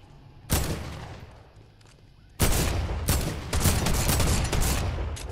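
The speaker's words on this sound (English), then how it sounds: "Oh, that's the drum shotgun." A drum shotgun firing in Fortnite: a single loud blast, then a quick, close volley of heavy, booming shots in rapid succession.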